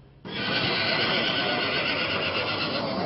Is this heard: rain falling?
no